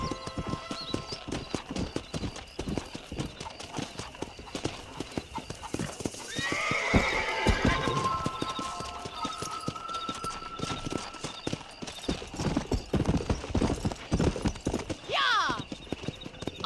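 A horse gallops in Red Dead Redemption, its hooves clip-clopping in a steady rhythm, with loud whinnies midway and near the end, under a voice talking.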